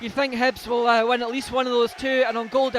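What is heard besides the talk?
No distinct noise like a dog, phone or traffic.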